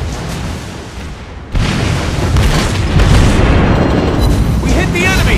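A tank shell striking a target in the tank game Conqueror, heard as a heavy boom that jumps in loudness and then rolls on in a dense, sustained rumble of battle noise.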